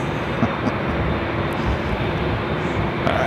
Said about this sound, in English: we got the Aeromexico Dreamliner heading back to Mexico City